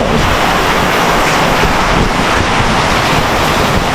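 Loud, steady roar of typhoon rain and gusting wind buffeting the microphone, a dense wash of noise with no pauses and no voices.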